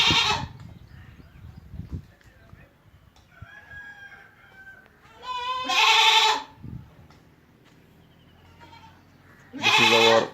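Goats bleat in loud, wavering cries at a goat farm shed in Hungunta village, Gulbarga district, with bursts spaced several seconds apart and quieter animal calls and farmyard noise in between.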